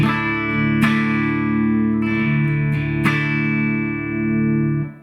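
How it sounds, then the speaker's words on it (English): An electric guitar played clean through a KSR Artemis amplifier rings out in sustained, bright, bell-like chords, with three fresh strums refreshing the tone over about five seconds before it cuts off. "here's the sound of the KSR Artemis by itself."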